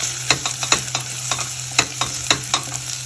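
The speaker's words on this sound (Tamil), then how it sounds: "வெங்காயம் நல்லா ஒரு ப்ரௌன் கலராக வர வரைக்கும் வணக்கிக்கலாம்." Onions sizzle steadily in hot oil while a spoon scrapes and stirs the pan in quick, uneven strokes, close up with no talking.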